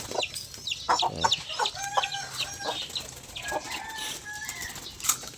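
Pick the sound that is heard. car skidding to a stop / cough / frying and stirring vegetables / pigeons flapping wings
pigeons flapping wings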